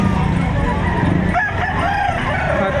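A rooster crows amid the busy clamor of the Padre Garcia livestock auction market in Batangas, where chickens are sold, with clucking fowl and steady crowd noise filling the background throughout.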